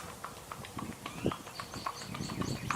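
Hooves of Maggie, a gaited horse ridden on a loose rein, clip-clop in a quick, slightly trotty rhythm close by, with faint chirping in the background.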